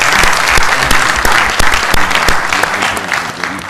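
Loud, steady audience applause filling the space at a ceremony honoring the late comedian and activist Dick Gregory, many hands clapping at once with a few sharper claps standing out.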